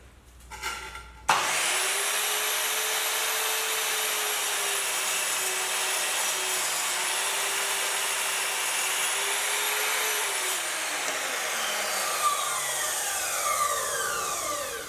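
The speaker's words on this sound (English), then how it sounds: "that was just a quick test cut with the miter saw" Miter saw making a test cut on wood in a workshop: the motor spins up sharply, holds a loud steady whine through the cut for several seconds, then winds down with a falling tone.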